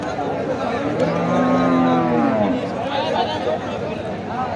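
Cattle low at a rural livestock market, with a long, loud moo rising over a steady crowd murmur and nearby voices, at a sparsely attended haat where cows with calves are sold.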